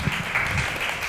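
Audience applause after a university student presentation on dormitory housing, a short burst of clapping from a gathered crowd, steady and fairly close.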